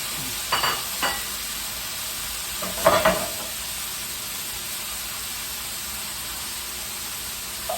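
Eggplant sizzles in a hot pan for Thai basil chicken, a steady hiss broken by a few short scraping stirs near the start and middle.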